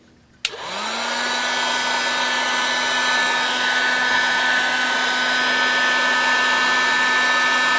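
A hot air blower switches on with a sharp click and then roars steadily, heating glue on a piece of wood; the close, continuous airflow hum holds at a constant level with no talking.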